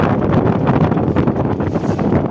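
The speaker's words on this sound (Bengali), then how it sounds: "প্রচণ্ড বাতাস।" Strong wind gusts through a forest beside a river and an embankment road, buffeting the microphone in a loud, continuous rumbling roar that swells and dips without a break.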